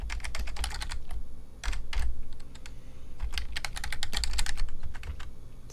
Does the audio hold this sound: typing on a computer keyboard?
yes